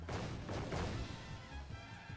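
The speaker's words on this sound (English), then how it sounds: "He managed to dodge the first explosion, and the second, the third" Explosions in Final Fantasy XIV at a seasonal Moonfire Faire event: a dense run of deep booms and crashes rumbling together, close but fairly quiet, with no speech.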